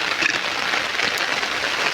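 Heavy rain pours down in a steady, dense hiss with no break, loud and close, during the monsoon season in Kandhamal. No voices are heard.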